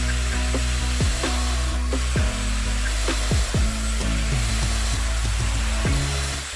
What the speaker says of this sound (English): using a domino, I cut a 10mm mortises on all aprons and stretchers using the tight setting